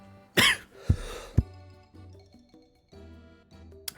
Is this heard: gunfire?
no